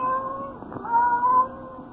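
A single cat cries faintly, giving a thin, drawn-out, wavering meow-like wail in an otherwise quiet, still setting. The sound is soft and somewhat distant.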